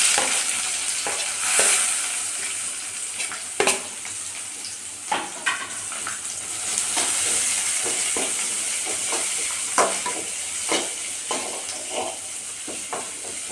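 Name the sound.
curry leaves, crushed garlic and onion sautéing in oil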